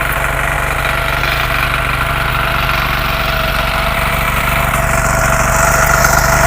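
A tractor engine drones steadily and loud at close range while ploughing a farm field for organic ridge gourd sowing, a continuous low rumble with a mechanical whine running throughout.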